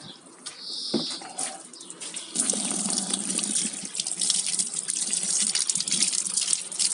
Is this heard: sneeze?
no